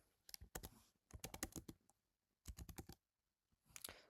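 Typing on a computer keyboard while entering a spreadsheet formula, with quick bursts of close, crisp key clicks separated by short pauses.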